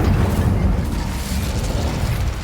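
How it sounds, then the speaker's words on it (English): A fire spell cast in Hogwarts Legacy, a dense, rumbling burst of flame that roars steadily at close range for a couple of seconds with a crackling low-end body. "Incendio!"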